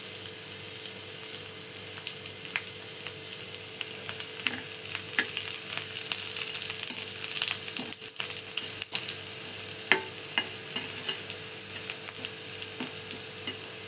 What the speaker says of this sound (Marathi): तव्यावर भेंडी बनवणार तर मी तेल टाकलं, यामध्ये बघा मिरच्या टाकून घेतल्या.